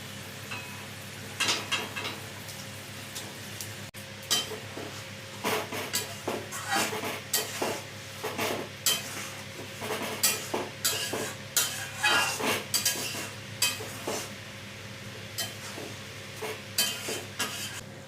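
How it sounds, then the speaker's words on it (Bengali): Jackfruit koftas go into a boiling curry gravy, followed by repeated stirring and scraping bursts in an even rhythm over a low bubbling simmer, close and fairly loud. "ঝোলটা ভালো মতন ফুটে গেছে। এবারে কোপ্তাগুলো দিয়ে দিচ্ছি।"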